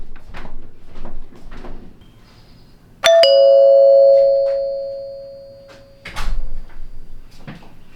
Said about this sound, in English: now I have a proper ding dong